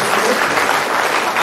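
Loud, dense audience applause at a conference in Cox's Bazar, steady continuous clapping filling the whole stretch with no break.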